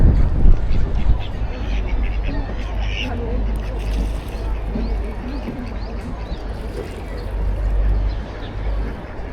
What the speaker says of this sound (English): Taking pictures of this duck.